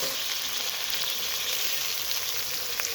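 Onion stalks sautéing in a pan hiss and sizzle hard as room-temperature water is poured in, a steady loud crackling wash of frying with no voices.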